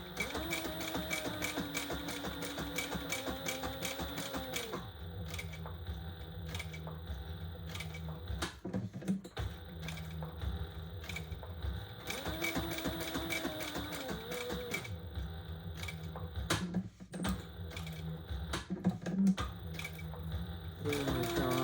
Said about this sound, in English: now I'm just gonna stitch it on